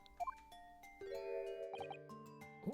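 In The Great Ace Attorney Chronicles, bright bells ring out in a short melodic chime sequence, clear tones layered and sustained, with a soft tinkling pickup at the start and no voices.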